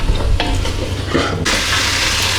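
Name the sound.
vegetables stirred and frying in oil with tom yum paste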